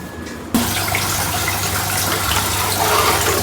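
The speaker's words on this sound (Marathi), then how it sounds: "आता अर्धा ग्लास पाणी टाकायचं आणि त्यानंतर आपली पावभाजी रेडी झालेली असेल" Half a glass of water is poured into cooking pav bhaji in a pan, a steady, close splashing gush that starts abruptly after a brief quiet moment and runs on for about three seconds, with no talking.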